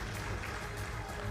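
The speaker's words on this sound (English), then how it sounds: "Let's give them a round of applause." A short, dense burst of audience clapping at an awards ceremony during a job fair launch, loud and continuous with no break.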